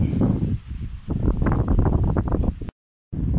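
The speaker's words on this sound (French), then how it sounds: "Donc il y a beaucoup de vent, j'espère que vous allez m'entendre dans la vidéo." Strong wind buffets the microphone in the middle of a crop field, a dense, continuous low roar with gusting surges and a brief dropout near the end.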